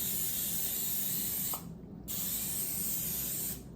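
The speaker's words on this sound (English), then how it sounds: "Now, I need my cooking spray." Cooking spray hissing from an aerosol can onto a pan for macaroni, two long continuous bursts, each about one and a half seconds, close and loud with a short pause between them.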